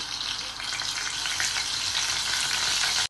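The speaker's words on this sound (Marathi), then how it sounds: "तेल टाकल्यानंतर मी जिरा मोहरी टाकत आहे" Cumin and mustard seeds sizzle steadily in hot oil in a pan on a gas stove, a dense, bright crackle holding at an even, close level for the whole stretch with no voices.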